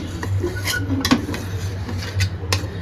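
A spoon scrapes and clanks against a large cooking pot while chicken pulao is stirred, with several sharp metallic knocks spread over a steady low hum, close and fairly loud.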